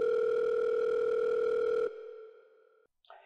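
Phone call being placed from a cell phone, opening with a loud steady dial tone that drops away after about two seconds into a fading tone, a brief silence, then a short burst of sound.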